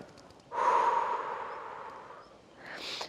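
One long, close breath out through the nose during a yoga pose, a soft airy rush that fades slowly and is followed by a faint second breath.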